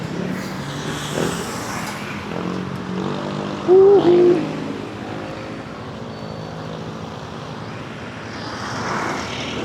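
A vehicle drives past on a road, its engine hum swelling to a loud peak midway and then fading into steady background noise.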